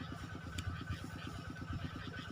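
A water pump engine draining a pond to catch fish on a Thai farm, a steady fast-chugging motor idle with an even pulsing rhythm, heard fairly close and alone.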